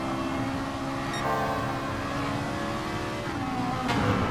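McLaren race car engine in a racing game, a continuous close engine roar that shifts pitch as the car changes gear and accelerates, alone without talk.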